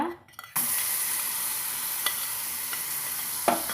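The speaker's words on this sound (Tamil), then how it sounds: "இந்த நெய்யிலே வந்து நம்ம எடுத்து வச்சுக்கிற பழத்தை வந்து போட்டு வதக்கலாங்க" Fruit pieces sauté in hot ghee for payasam. After a brief quiet start, a sudden steady sizzle begins, with a couple of soft stirring clinks and no talk.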